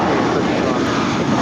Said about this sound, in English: This is United Airlines 319 departing to Puerto Vallarta. It's an Airbus A320.